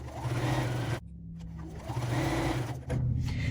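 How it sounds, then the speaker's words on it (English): A sewing machine runs in two quick bursts of rapid, whirring stitching while quilting lines on a scrappy log cabin block, pausing briefly between runs; close and clear with no talking. "Then I'm just going to do a few stitches 1/4 inch away on each side."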